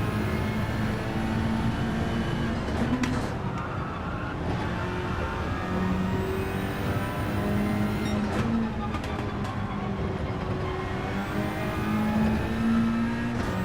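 Race car engines drone and shift pitch continuously through a Gran Turismo lobby race, a steady loud mechanical roar with rising and falling tones as gears change.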